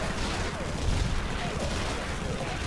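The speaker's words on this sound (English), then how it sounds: "they got turrets shooting at you, man" Turret gunfire in the sci-fi strategy video game Infested Planet, a dense, continuous crackle of rapid shots and booms held at steady loudness, with talk over it.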